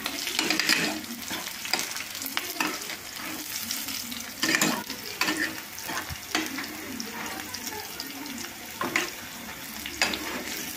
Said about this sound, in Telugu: ఇలా ఉల్లిపాయలు ద్వారాగా వేయించుకోవాలి.